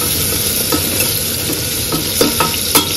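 Tomato is stirred into nearly fried onion in a pan while making pulav, a close, constant sizzle broken by a few sharp spatula scrapes and knocks toward the end.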